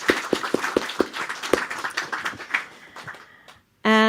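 Scattered claps from a festival talk audience ring out sharply at first, then thin into a softer patter that fades away, followed by a sudden steady electronic tone.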